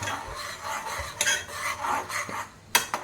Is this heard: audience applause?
no